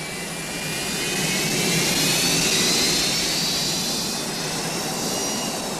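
Jet airliner engines at a cruising altitude of 31,000 feet produce a steady, broad cabin roar with a slow swell and a faint high whine. The sound is continuous and unbroken, with no voices.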